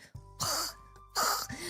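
A voice imitates a cat heaving up a furball, two harsh retching bursts with raspy gasping breaths between them, close and short.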